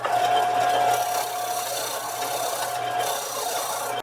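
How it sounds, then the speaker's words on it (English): A disc sander grinds against a briar pipe block with a loud, steady abrasive roar and a faint whine, easing slightly before cutting off abruptly. "So I'm just going to use the disc sander here, get myself a flat surface."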